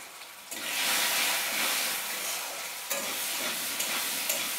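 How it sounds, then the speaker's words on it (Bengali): Potato pieces seasoned with salt and turmeric hit hot oil in a pan for an egg curry. A loud, close sizzle bursts in after a short quiet start and keeps hissing steadily, with a few stirring knocks and no speech. "এবারে আমি আলুগুলোকে প্রথমে ভেজে নেব।"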